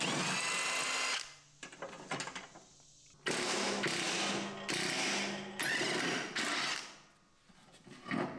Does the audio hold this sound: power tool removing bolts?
yes